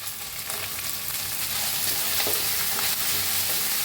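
Potato and brinjal curry with tomato and peas is stirred in a hot pan, giving a continuous close sizzle with soft scraping strokes of a spoon running through it.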